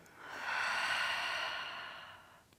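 A single long, breathy exhale during a yoga flow, rising smoothly and then fading over about two seconds, close to the listener with no talking.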